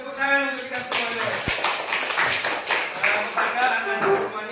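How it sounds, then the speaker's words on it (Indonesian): Group of schoolchildren clapping hands at an Indonesian school gathering, steady rhythmic clapping mixed with children's voices and chatter. "Tepuk tangan untuk kita semuanya."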